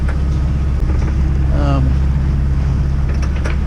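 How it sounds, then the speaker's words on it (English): A sailboat motors at sea under engine power on a solo Azores passage, its engine a constant low drone blended with wind noise, and a voice briefly speaks over it. "And that's what I'm doing now, I'm just motoring."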